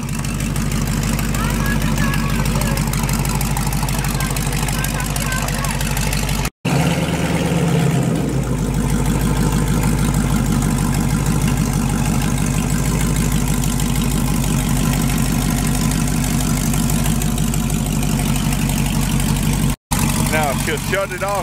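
A 1957 Chevy engine idles with a loud, steady, low rumble close by, voices talking over it, the sound briefly dropping out twice.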